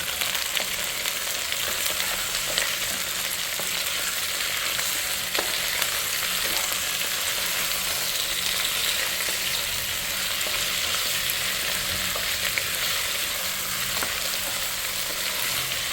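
Washed chicken being stirred in a hot pot of oil and masala for chicken biryani. A close, steady sizzle runs continuously with faint scraping of the stirring, and no one speaks.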